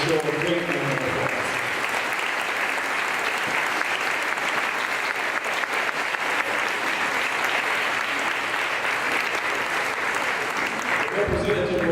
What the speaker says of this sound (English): Please give Representative Michelle a great round of applause.